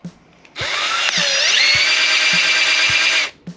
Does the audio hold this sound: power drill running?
yes